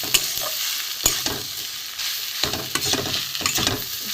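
Grated boiled potato and spices being mixed into a filling for stuffed okra, with soft continuous stirring and scraping, occasional sharper taps of the spoon and a faint sizzle underneath.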